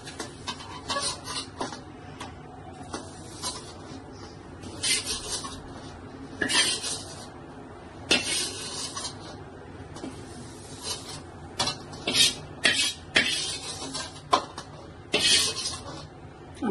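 Ghee-roasted gram flour is scraped and tipped from a pan into a pot, giving a run of dry scratching, rubbing and light metal clinks with a few sharper knocks, close up and with no talking.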